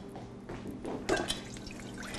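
Canned artichokes drain in a home kitchen, with liquid dripping and trickling softly, close by, for a couple of seconds, with a slightly louder splash near the middle and no talking.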